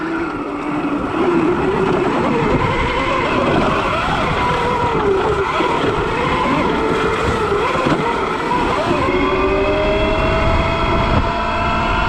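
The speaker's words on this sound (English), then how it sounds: "the chain drive just makes so much noise on this bike" An electric dirt bike powered by an 80V lawnmower battery runs hard and loud through woods, with constant whining chain drive noise and rough rattling over the terrain.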